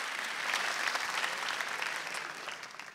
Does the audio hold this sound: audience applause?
yes